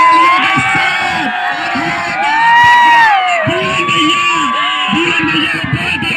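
Spectators at a kabaddi final match in a village ground cheer loudly, with whoops and shouts rising and falling in bursts over a continuous crowd roar.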